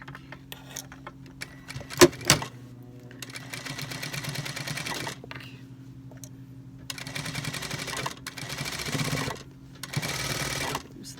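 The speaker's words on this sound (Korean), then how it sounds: "이제 여기서부터 제가 스티치를 넣을 겁니다" A sewing machine puts a one-inch stitch into the hem of a strappy slip dress, running in several bursts of rapid mechanical chatter with short quiet pauses between them. The machine is close and there is no talking.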